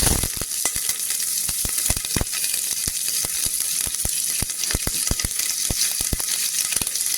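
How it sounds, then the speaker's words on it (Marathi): Fresh green curry leaves crackling and sizzling in hot oil for a Marathi tempering, with loud, dense frying hiss and a steady stream of sharp pops close up, no talk. "इथे आपण हिरवागार एकदम फ्रेश कढीपत्ता टाकायचा."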